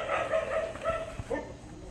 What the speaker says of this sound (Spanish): Estos perros de los huevos.